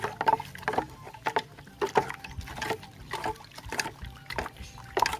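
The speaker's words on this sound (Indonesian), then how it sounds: "Selanjutnya ini kita aduk." A diluted herbicide mixture stirred in a container of liquid, rhythmic sloshing and swishing strokes repeating about twice a second, close and fairly loud with no talk.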